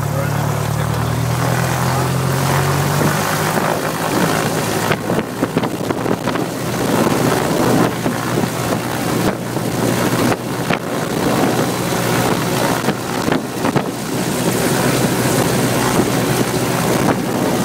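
A single-engine propeller airplane runs up its engine in a loud, sustained roar mixed with wind buffeting, the pitch shifting after a low hum at the start.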